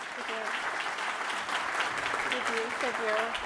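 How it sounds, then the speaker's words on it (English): A conference audience at a security event in Seattle applauds a speaker with sustained, even clapping, while voices talk faintly underneath. "please give a big round of applause for our speaker, Tanya."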